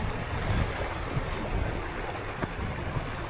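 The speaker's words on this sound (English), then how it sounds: "It's a really nice little river." A small river near a ford in the Lammermuir Hills, flowing on the way to Whiteadder Reservoir: a steady, broadband rush of water under some wind, continuous and fairly close, with no talk.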